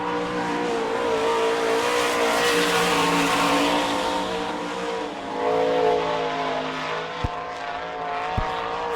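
Sprint race car number 92 lapping a speedway at speed during time trials, a loud continuous engine drone swelling and easing as it rounds the track, with no talk over it.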